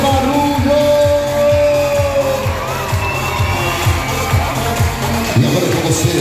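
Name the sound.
circus audience clapping and cheering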